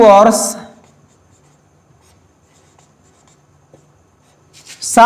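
A pen scratches faintly on paper while a maths solution is written out, a soft, steady scrawl with small taps, framed by someone speaking briefly at the start and end.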